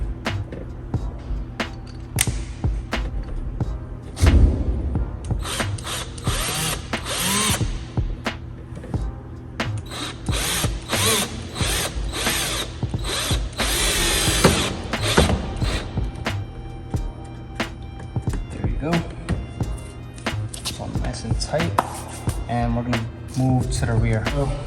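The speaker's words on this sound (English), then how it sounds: "I'm going to use the new screw, and I'm just going to drill it back in" A power drill drives a screw into a 2018-2020 Honda Accord Sport sideskirt, whirring in several short bursts with clicks and creaks between, close by, mixed with a person talking throughout.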